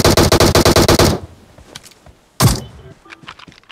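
Rapid automatic gunfire in a video game shooter, a loud burst of evenly spaced shots lasting about a second, then a quieter stretch and one more sharp blast.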